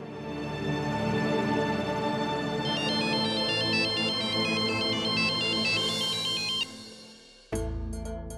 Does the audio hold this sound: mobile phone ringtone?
yes